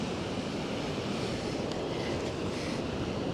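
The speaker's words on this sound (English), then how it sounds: "You can see the waves coming towards the cliff" Ocean surf surges toward a coastal cliff on Savai'i, a loud, continuous broadband roar of breaking waves mixed with wind buffeting the microphone, with no speech.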